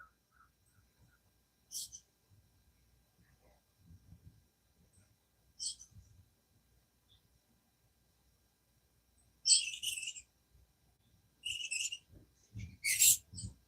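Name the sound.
birds singing outdoors at dawn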